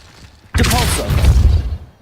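A Depulso spell fired in the Hogwarts Legacy video game, erupting abruptly from near silence into a loud, dense whoosh and thudding burst that holds for over a second, then tapers off; no voices.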